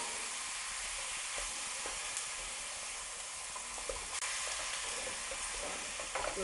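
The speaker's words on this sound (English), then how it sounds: "I'm going to keep cooking and stirring this mince until it's browned and changes colour" Beef mince and onions browning in a pan for lasagne, stirred with a wooden spoon: a continuous bright sizzle with light scraping and clatter throughout, near and steady without talk.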